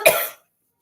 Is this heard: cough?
yes